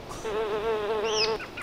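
A bee swarm buzzing in the Aveyond role-playing game, a steady close-up drone with a wavering pitch, ending in a brief higher-pitched sting effect.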